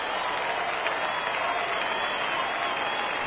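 Baseball crowd rising and cheering at a full count, a dense sustained roar of many voices and applause at steady loudness throughout.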